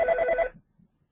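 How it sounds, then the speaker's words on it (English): A phone ringing during a work call: a bright, warbling electronic ring lasting about half a second, fairly loud and close, then cutting off abruptly into near silence. "Whose phone's ringing?"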